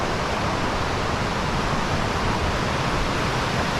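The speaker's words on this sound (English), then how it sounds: "here we go to the falls" Dismal Falls on the Appalachian Trail roars as a steady, loud wash of broadband water noise, unbroken for the whole stretch with no voices, the waterfall sounding close and dense from the trail above the deep pool.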